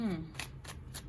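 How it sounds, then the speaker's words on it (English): Tarot cards being shuffled by hand, a run of soft rhythmic riffling bursts, close and quiet, with a voice briefly at the start. "I'm sitting here just shuffling"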